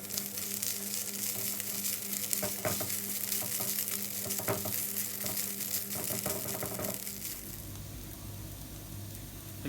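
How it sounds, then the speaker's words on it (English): Quiet dry sizzling of rice lightly frying on low to medium heat for pilau, with repeated scraping strokes of a utensil stirring the grains, continuing steadily before the stirring stops near the end. "I've been lightly frying or roasting the rice on low to medium"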